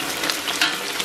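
Chopped scallion and ginger hit hot oil and caramelized sugar in a wok, giving a loud, steady, close sizzle with brief bursts of crackle, no voices.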